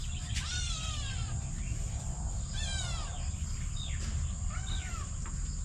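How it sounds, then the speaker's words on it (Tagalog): A farm cat named Mingming meows several times in rising, drawn-out calls, moderately close, over steady insect and cricket buzz and low background rumble. "Sumasalubong din yung aming pusa"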